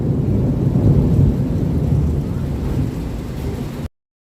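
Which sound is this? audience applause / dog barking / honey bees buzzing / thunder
thunder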